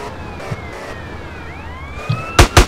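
Police car siren wailing on a street, its rising and falling tone running steadily and fairly loud, with a few sharp knocks and thumps near the end.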